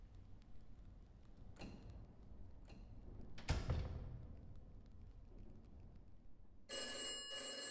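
An old telephone bell rings in a quiet room, a few short bursts scattered over the span before a brighter, steadier ringing tone sets in near the end.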